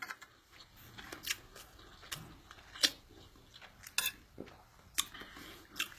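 Someone eats rice with metal cutlery, giving faint, scattered clinks and scrapes against a plate at irregular intervals, close by and quiet with no talking.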